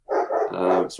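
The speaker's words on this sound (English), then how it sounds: "Apologies for the dog barking in the background." A dog barks several times in quick succession, fairly loud and close, as yips and barks run together over about a second, heard during a council meeting.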